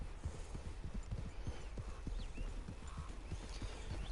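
A horse in the video game Red Dead Redemption Online clip-clops along at a steady trot, its hoofbeats soft and even throughout, with faint game ambience and a possible brief whinny.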